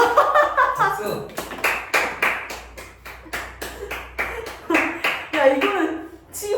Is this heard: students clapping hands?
yes